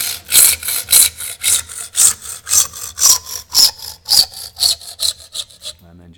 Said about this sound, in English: let's take the hacksaw, ensuring that it's nice and horizontal at 90 degrees